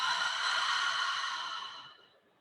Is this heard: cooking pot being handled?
no